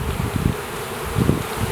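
Honey bees being shaken into a hive during installation give a steady low buzzing hum, close and continuous, swelling louder in two bursts.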